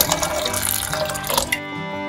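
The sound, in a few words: water being poured into a pressure cooker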